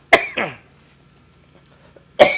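A person coughs hard twice in quick succession, then once more after a short quiet gap, the harsh bursts loud and close to the microphone.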